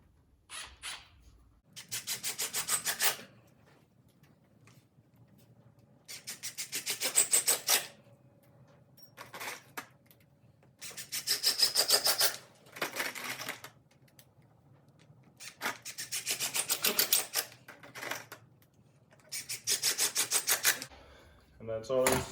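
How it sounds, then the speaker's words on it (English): A Milwaukee Surge impact driver sets screws through a 2x4 into concrete in several separate bursts of a few seconds each, its quiet whirring rattle alternating with near-silent pauses. "This is a Milwaukee Surge Impact, so it's adjustable, but it's also very quiet"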